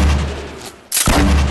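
A loud minigun in Fortnite fires a dense continuous burst, cuts off briefly, then roars back in close and harsh, with no voices over it.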